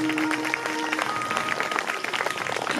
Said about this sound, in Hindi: सभी लोग ताली बजाकर गुरुदेव भगवान का स्वागत